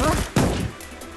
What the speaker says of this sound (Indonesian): Ah, SMG nih.